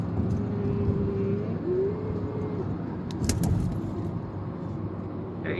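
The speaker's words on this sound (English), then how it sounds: "we're driving on the Gardener right now" A car cruises along the Gardiner Expressway in Toronto, a steady broad road and engine rumble from inside the cabin with a brief whistling tone and a few light rattles, no talk.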